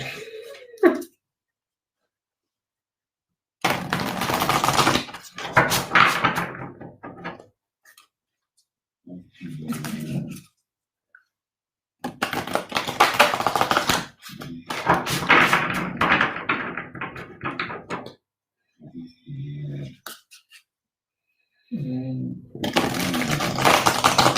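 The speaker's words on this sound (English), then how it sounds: "I'm gonna have to get used to shuffling these. These are so big." Large tarot cards shuffled by hand in several bursts of dense riffling and rustling, close and moderately loud, separated by short silences, with brief spoken moments in between.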